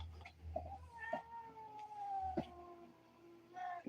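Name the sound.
cats meowing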